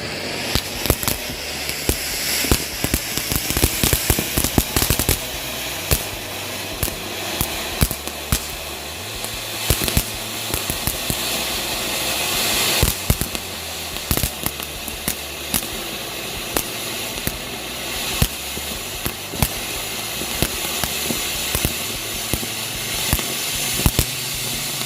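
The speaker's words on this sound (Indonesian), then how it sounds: "kita lanjut lagi menyalakan mercon barongsai jumbo" A long string of jumbo barongsai firecrackers bursts in rapid, irregular bangs for many seconds, loud and crackling over a hissing, smoky rumble.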